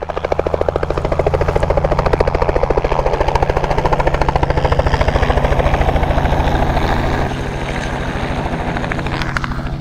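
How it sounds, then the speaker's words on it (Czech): Over sheep-herding country in New Zealand, a helicopter beats loudly nearby with a fast, steady rotor chop that stays strong, then eases slightly as it draws a little farther off. "To mě chceš říct, že helikoptérou nahání ovce"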